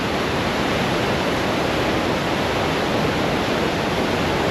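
World's largest waterfalls on the Argentina side, a loud, dense, unbroken roar of falling water and spray close by, with no voices.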